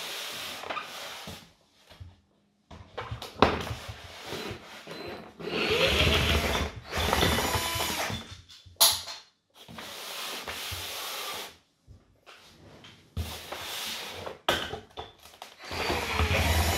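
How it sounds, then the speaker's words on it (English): A screwdriver turns screws out of a box holding a 1:18 scale CMF Cadillac Presidential State Car model, with close, scratchy grinding and rubbing in uneven bursts, separated by brief pauses and occasional knocks and clicks. "now what I really need to do is unscrew it so that I can remove it from the box. I have this screwdriver here"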